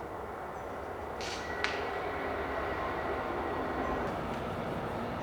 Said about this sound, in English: there are disadvantages like the noise from the train, which is very close here.